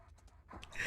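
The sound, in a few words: dog panting, from the video game The First Descendant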